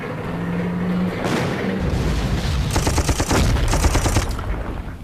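Artillery barrage in the Panzer Corps war game, a loud run of rapid booming blasts and crackling gunfire volleys with dense rumbling bursts that build and stack over several seconds.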